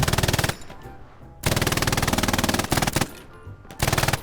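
Rapid automatic gunfire crackles in loud bursts during a Hell Let Loose match, three long volleys separated by short pauses, with a clipped extra burst mid-sequence.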